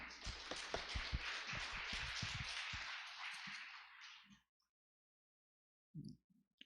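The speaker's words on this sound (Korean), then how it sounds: "충청남도 보령 서산시 위해서 박수 한번 부탁드리겠습니다" Crowd applause at a regional forum session in Korea, a broad steady clatter of many hands lasting about four seconds before fading out, followed by a brief murmur.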